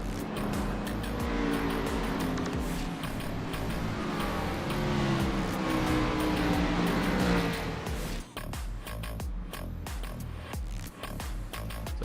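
Race cars at Bristol Motor Speedway circle the short track behind the pace car, a loud continuous engine roar with cars passing close, easing and thinning out toward the end.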